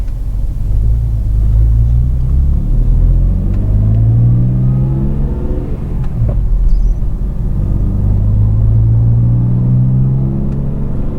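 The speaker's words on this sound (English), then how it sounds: "The exhaust sounds pretty good." A BMW E46 M3 fitted with a Dinan exhaust runs loud and close, its engine droning and swelling through slow revving, with no talk.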